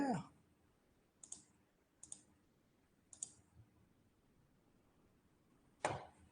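A computer mouse clicks sharply and close: one click at the start, then three evenly spaced single clicks, and a final louder click after a pause, over a quiet room.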